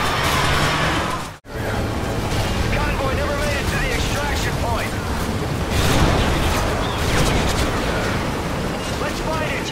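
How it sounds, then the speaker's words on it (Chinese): Explosions from the Call of Duty: Modern Warfare 3 video game boom loudly and continuously amid gunfire and battle noise, with a sharp blast cut near the start and voices talking over the chaos. "炸弹感觉就像是在耳边爆炸一样。"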